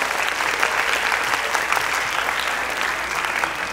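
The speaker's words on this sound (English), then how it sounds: "A huge round of applause." A school function audience applauds the chief guest with dense, steady clapping that holds at an even level throughout.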